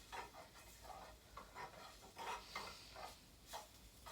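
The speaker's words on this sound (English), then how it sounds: "hear that nice sizzle?" Garlic sizzles and crackles in a hot pan for Swiss chard, with soft stirring strokes in a quiet, steady rhythm, faint and close.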